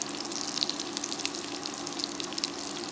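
Chicken nuggets fry in a skillet with a steady, close crackling sizzle, dense popping spatters scattered throughout the whole stretch.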